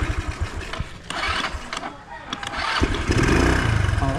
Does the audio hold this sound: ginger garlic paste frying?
no